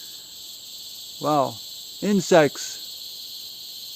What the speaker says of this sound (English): insects, cicadas.